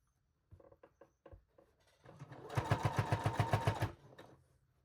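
Sewing machine stitching a serrated scissor case, starting with a few slow separate stitches, then a short fast run of rapid, even needle strokes before stopping.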